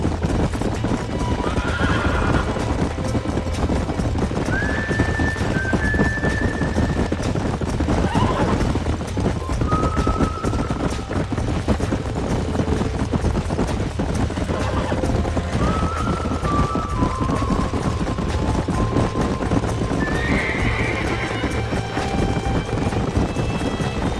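Horses galloping and neighing in Red Dead Redemption, a dense drumming of hooves throughout with several whinnies rising over it at intervals, loud and close.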